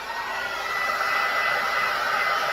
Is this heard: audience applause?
no